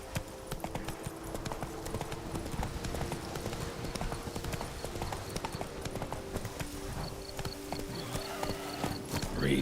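Hooves of Roach, the horse in a Witcher video game, clip-clop in a fast steady galloping rhythm, close and continuous, with game ambience underneath.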